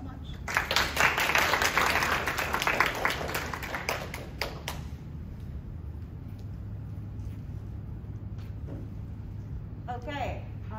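An audience applauds the speakers at an evening talk on sexual assault, loud clapping from a crowd that swells and then thins into scattered claps after a few seconds. Low room noise and faint voices follow.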